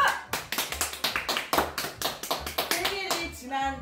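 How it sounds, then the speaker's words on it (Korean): A small group of people claps in quick rhythmic bursts indoors, close and fairly quiet, with voices and laughter joining toward the end. "박수!"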